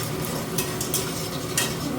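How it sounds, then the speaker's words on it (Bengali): Chopped carrots and beans frying for fried rice in a pan, with a steady close sizzle and intermittent scraping stirs throughout, no talking. "এই যে ফ্রাইড রাইসের জন্য গাজর, বিনস এগুলো কেটে নিয়েছি, এখন এগুলো আমি ভেজে নেব"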